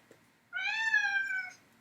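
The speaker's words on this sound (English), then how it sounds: "She does this thing where she meows for attention, but then won't let you give her any." A pet cat gives a single drawn-out meow, close and clear, lasting about a second in an otherwise quiet room.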